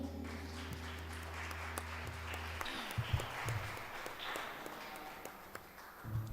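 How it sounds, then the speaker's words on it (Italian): A church congregation applauds together during a worship service, a dense, steady wash of clapping that thins into scattered claps and taps after a few seconds. "Fai un applauso al Signore."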